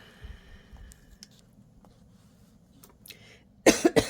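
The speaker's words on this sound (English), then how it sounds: "I don't know why I have this cough." Quiet room with faint shuffling, then a burst of three sharp coughs close by at the end.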